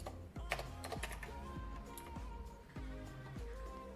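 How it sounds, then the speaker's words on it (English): Keys on a computer keyboard clack in quick, uneven bursts up close, with soft clicks scattered through a low background hum. "we're gonna type placed order"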